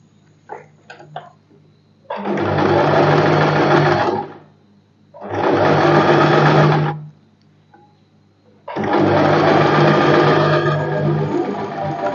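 Electric sewing machine stitching a padded princess-cut blouse, running in three sustained bursts of rapid whirring with short quiet pauses between, close and loud, preceded by a few light clicks.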